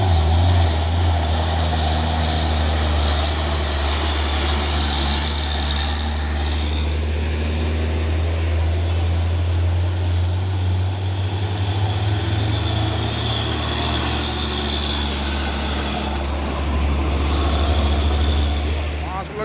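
A loud, low diesel rumble with a heavy throb from a passing 6x2 tronton truck holds steady throughout, close by, with road noise layered over it.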